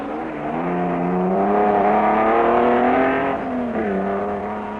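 A rally car, likely an Alpine Renault, is driven sideways over the Col de Turini mountain pass on the Monte Carlo rally. Its engine drones loud and close, pitch rising then dipping as it works through the bend, with no talk.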